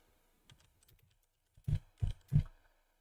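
A command is typed on a computer keyboard: a few faint light taps, then three distinct louder keystrokes in a quick, uneven rhythm in a quiet room.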